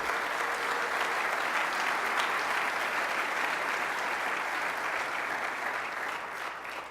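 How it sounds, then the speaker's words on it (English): Sustained, dense audience applause at a motivational speech event, a steady wash of many hands clapping at full strength for about seven seconds before tapering slightly at the end. "give yourself 25 claps for that"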